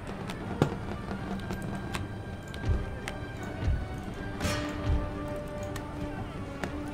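Musket volleys in the Empire Total War video game crack in scattered bursts over a dense battlefield din, several sharp reports rising out of steady rumble.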